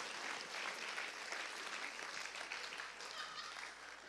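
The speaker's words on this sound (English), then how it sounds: "Give yourself a round of applause for putting up with me for all that time" A church audience at a comedy show in Montclair Tabernacle gives a steady, full round of applause that keeps up at even strength for the whole stretch, heard at a distance with no talk over it.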